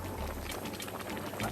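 Pot of Jamaican stewed peas simmering on the stove, giving a steady low bubbling with soft irregular pops, close and fairly quiet with no one speaking.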